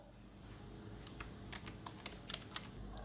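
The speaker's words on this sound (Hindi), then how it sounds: "मैं यहाँ पर फिल्टर में आई पे टाइप करके एंटर कर देता हूँ" Quiet computer keyboard typing, a short run of about a dozen light clicks close by over a faint background hum, entering a filter term in accounting software.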